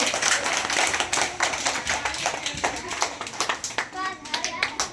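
Children in a school summer-camp language quiz clap together for a correct answer, a dense burst of hand claps that carries on for several seconds with some kids' chatter mixed in.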